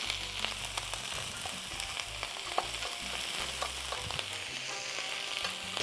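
Jalapeño and other taco fillings fry in a hot pan with a steady, close sizzle and crackle, broken by occasional stirring scrapes and a low hum.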